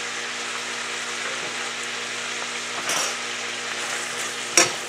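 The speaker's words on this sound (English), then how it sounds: "Stir it up a bit." Vegetable hash sizzles and fries in a pan, the steady crackle broken by a few stirring scrapes and a sharp spoon knock near the end.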